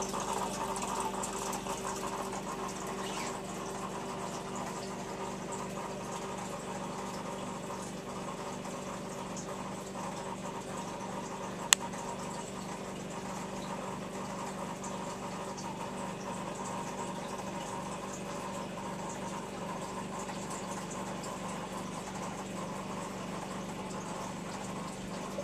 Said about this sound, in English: You can see how the pump just disperses it down.